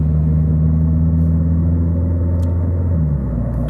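A Citroën Xsara with an automatic gearbox accelerates steadily on a closed road, its engine a loud, continuous rumble heard from inside the car, with a slight change in tone as it shifts up through the gears.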